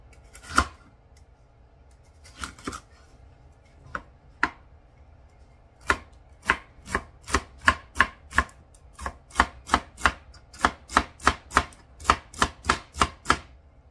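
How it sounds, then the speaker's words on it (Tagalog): Knife chopping a condiment into small pieces on a cutting board, at first a few scattered strikes, then a steady run of sharp, close, evenly spaced chops. "Hiwain din natin siya ng ganyang kaliliit."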